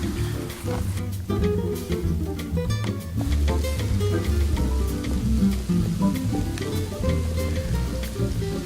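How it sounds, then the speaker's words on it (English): Light rain falls steadily in a mountain swamp near a worn wooden bridge over a watercourse, a continuous soft patter and hiss throughout, with a low rumbling background. "Light bit of rain here at the moment, beautiful bit of just rain coming down on us"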